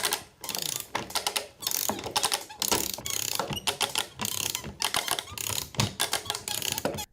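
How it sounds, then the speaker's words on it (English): A chain ratcheted up by a sprocket drives a double helical gear mechanism built with plywood, producing rapid clicking ratchet bursts and gear whirring in irregular pulses, close and fairly quiet with no speech. "the chain is then ratcheted up with this sprocket here"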